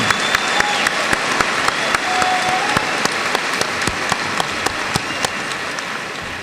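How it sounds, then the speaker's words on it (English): A graduation audience claps in sustained applause, a steady crackle of many hands with a few sharper individual claps standing out, while a faint whistle or cheer rises briefly over the crowd. "Let's give them a big round of applause."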